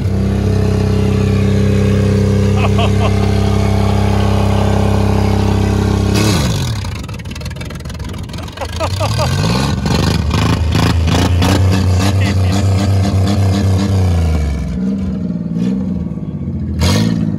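Diesel engine revving loudly close by: a steady low idle, then from about six seconds repeated hard throttle blips with clattering bursts that settle back to a rumbling idle.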